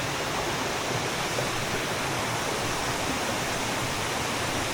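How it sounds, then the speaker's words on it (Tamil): Small waterfall and creeks in Australia's Blue Mountains national park, a steady, even rush of falling and flowing water heard up close with no voices. "குட்டி கூட இங்கே ஒரு வாட்டர் ஃபால்ஸு, நிறைய க்ரீக், சின்ன சின்ன ஃபால்ஸ் இருக்குங்க."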